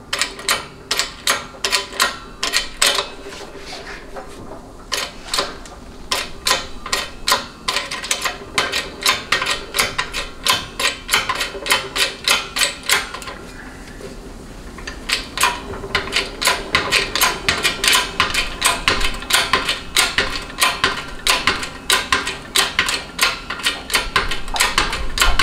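A hydraulic press forces a shaft out of a 700R4/4L60E transmission forward drum, with a press tool stacked between ram and shaft, giving a dense run of sharp, irregular metallic clicks and ticks close by, briefly easing midway, with no talking.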